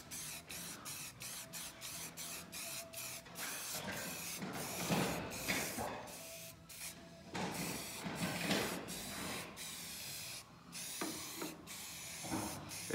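Bursts of aerosol spray paint lay a quick flat black coat on parts of a Cub Cadet 1450 garden tractor, a series of close hissing sprays of varying length with short pauses and nozzle clicks between them.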